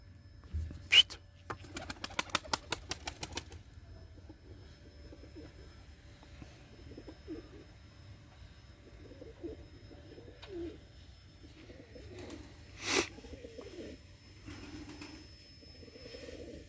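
Pigeons, including a loose-legged escaped bird, coo softly and intermittently in an outdoor setting, with a brief run of rapid flapping or clattering near the start and a sharp knock later.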